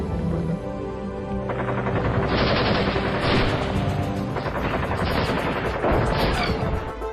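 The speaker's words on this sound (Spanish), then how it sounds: "Con grandes explosivos y una gran ráfaga de disparos, lograron derribarlo." Dense gunfire rattles in rapid automatic bursts mixed with heavy booms and crashes in a short monster film battle scene, loud and continuous throughout.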